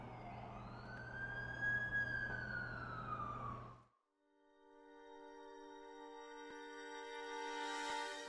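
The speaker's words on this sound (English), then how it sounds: "That's the ambulance I called." An ambulance siren in the PS4 video game The Amazing Spider-Man 2 wails in a rising and falling sweep, then gives way to a steady, buzzing horn-like tone, clear and fairly close.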